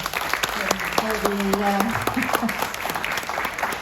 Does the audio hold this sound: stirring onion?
no